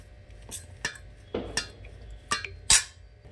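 Spoon clinking against a bowl as chopped vegetables with chaat masala are stirred together for a sandwich, several sharp separate taps and scrapes over a quiet background.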